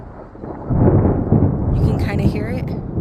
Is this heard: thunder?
yes